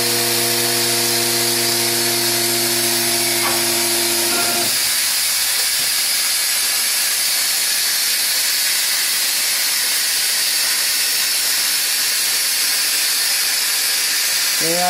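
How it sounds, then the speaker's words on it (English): A noisy car lift lowers a 1966 Corvette in a garage, giving a loud, steady hiss like escaping air or steam that runs unbroken throughout, with a brief tonal hum fading out early on. "And unfortunately, we got a pretty noisy lift."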